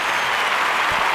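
A wrestling arena crowd in England applauds in a dense, steady wash of clapping that fills the whole moment.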